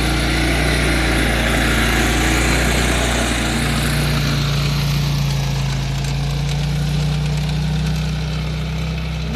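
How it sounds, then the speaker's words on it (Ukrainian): A small mini tractor ploughs a garden plot in autumn, its engine a steady, close, loud drone that holds an even pitch throughout with no talk. "тракторець хоч і маленький, але справляється"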